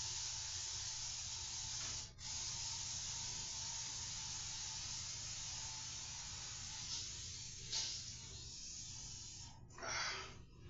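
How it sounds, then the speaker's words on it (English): Aerosol spray can hissing onto a sticker indoors, a steady close spray lasting several seconds with a few short bursts near the end. "I gotta spray another sticker and another sticker."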